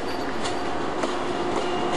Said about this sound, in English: This is the train I went to Ravenna on.